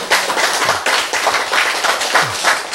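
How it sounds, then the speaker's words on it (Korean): Audience clapping during a Korean health lecture, a steady burst of many hands applauding together for about three seconds, fairly loud and close, with no talk over it. "박수 한번 쳐줘, 이제."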